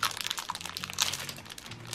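A Christmas Kit Kat chocolate wrapper crinkles and crackles in quick, busy bursts, close and fairly quiet, with no voices over it.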